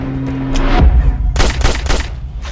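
Gunfire in the direct-to-video action movie Checkpoint: a heavy low thump, then a rapid run of loud, close shots in quick succession.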